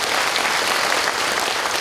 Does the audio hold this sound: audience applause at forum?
yes